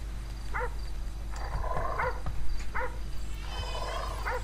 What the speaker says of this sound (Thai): ได้ยินเสียงหมาด้วย